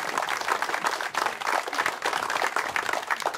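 Residents at a neighborhood public works launch applaud the municipal president, a moderately distant, steady patter of many hands clapping without voices.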